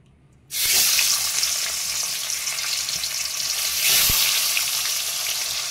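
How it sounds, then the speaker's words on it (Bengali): Pomfret fish pieces laid into hot salted oil burst into a loud, close frying hiss after a brief quiet start, then keep sizzling steadily with a slight swell partway through. "এইভাবে মাছগুলো আমি ভেজে নিচ্ছি,"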